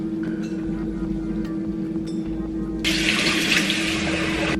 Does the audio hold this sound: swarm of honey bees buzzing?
no